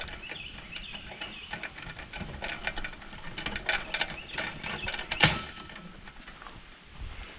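An old hand pump at a well on a hiking trail is worked, giving scattered squeaky metallic creaks and ratcheting clanks outdoors, with a faint open-air background and no talking.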